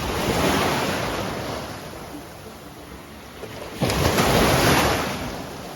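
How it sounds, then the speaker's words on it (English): Ocean waves wash and crash onto a beach at Ao Sang Tien on Koh Samet, Thailand, in a steady roar, swelling louder near the end, with some wind buffeting the microphone. "hear the waves crashing"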